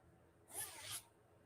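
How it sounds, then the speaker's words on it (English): The zipper on a heavy sweatshirt is pulled in one quick, bright rasping stroke, close up and brief against near silence. "it zips up the whole way."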